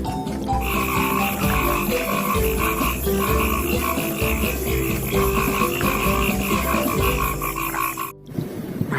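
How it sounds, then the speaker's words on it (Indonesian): Loud, continuous frog croaking fills the whole stretch: a dense chorus of rhythmic, repeated calls layered over one another, cutting out briefly near the end before resuming. "Widih, ada seekor katak."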